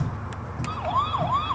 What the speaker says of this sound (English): Press that button. They can hear that siren.